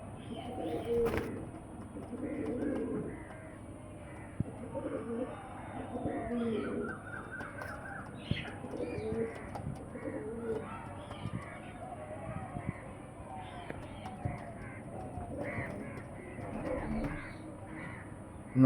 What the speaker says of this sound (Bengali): চলো আমি তোমাদেরকে পায়রা দুটো ছেড়ে রেখে দিচ্ছি